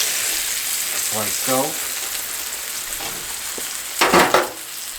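A beef pot roast sears in a cast iron skillet with a steady loud sizzle, and a clatter and a burst of louder spitting come as the meat is flipped. A brief voice is heard partway through.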